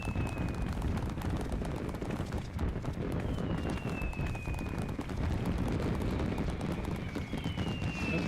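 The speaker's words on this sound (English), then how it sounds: "Pretty nice fireworks." Fireworks burst during the Rising seasonal event in Final Fantasy XIV, a dense continuous rumble of crackling explosions with faint whistling rockets rising over it, loud and steady throughout.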